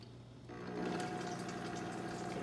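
A blender switched on at low speed with four egg yolks for aioli: a steady motor whir with liquid churning that starts abruptly and holds an even, close, moderately loud drone.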